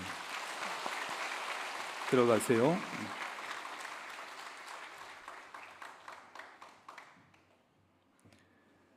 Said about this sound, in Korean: 인사드릴 때 박수로 환영해 주시기 바랍니다.